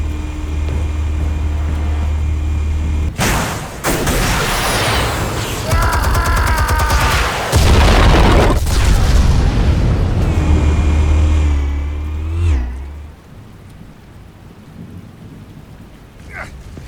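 A loud blast from the Batman: The Telltale Series video game erupts after a short lull, with heavy rumbling low-end debris and crackle lasting several seconds before fading into quieter ambience; voices speak around it.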